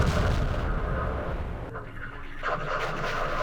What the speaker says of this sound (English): The hog saw something and fired into the woods.